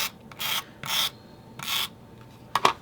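Paper trimmer blade slicing paper in a craft space, three separate scraping cuts in an even rhythm, each about a quarter second long, followed by a sharper clatter at the end, close and fairly quiet.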